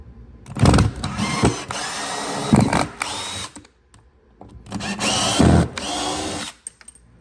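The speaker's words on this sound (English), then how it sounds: "now I'm just taking out the screws that hold this wood on" A power drill backs out screws holding wood on a wall in two bursts of whining, ratcheting spins separated by a short pause, loud and close.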